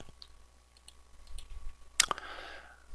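A computer mouse clicks once on a button, a single sharp, close click after a few faint ticks in a quiet room.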